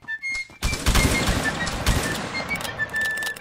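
Gunfire in a first-person shooter match pops in rapid bursts of close, sharp shots over a few seconds, with a thin whistling tone running through the mix.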